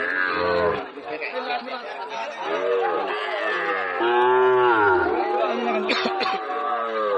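Cattle at a rural livestock market in Joypurhat, with loud, close market chatter and shouting throughout and possible lowing mixed into the crowd noise.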